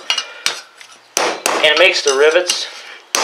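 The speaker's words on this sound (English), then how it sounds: "take your hammer and just kind of knock them in a little bit" A hammer strikes the rivets on a Ford Expedition center hub cap in sharp metallic knocks, several quick blows near the mic, with someone talking between and over the hits.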